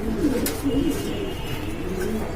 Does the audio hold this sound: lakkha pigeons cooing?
yes